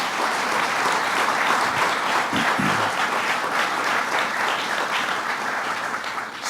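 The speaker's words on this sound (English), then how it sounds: "Let's give them a round of applause for their good work." Audience at a governor's bill-signing event in New York breaking into sustained, loud, dense applause that holds steady throughout and eases slightly at the end, with a brief low murmur partway through.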